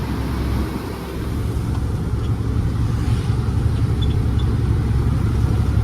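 A truck engine labours steadily up a steep ghat road in 7th gear, a dense continuous low rumble that stays loud and even throughout with no talk over it.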